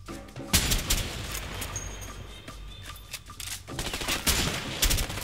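Machine gun fire in the video game A Way Out rattles in loud, rapid bursts, with an opening volley, a quieter stretch of scattered shots, then another heavy burst near the end.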